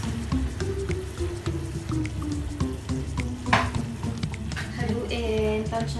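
Beef stir-fry with salt, pepper and soy sauce cooking in a pan, with a steady sizzle and scattered clicks and scrapes of stirring, continuous and close, while someone talks over it.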